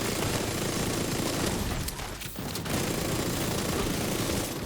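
Sustained automatic gunfire in a video game, poured into a boss's backpack, a dense unbroken roar of shots that dips briefly midway and then resumes at full loudness, with no talk.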